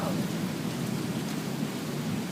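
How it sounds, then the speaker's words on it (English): Steady, loud rain pours down all day in a storm that brought a tornado, a dense unbroken hiss with no voices. "Ah, it's raining all day."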